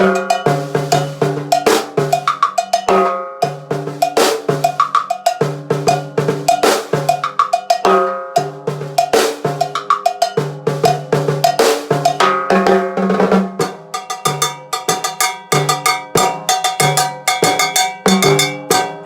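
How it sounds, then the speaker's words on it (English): Timbales played with a mambo bell pattern, a bright repeating cowbell figure over syncopated shell and drum hits, loud and steady throughout with no talking. "There's a little sample of what the timbales sound like."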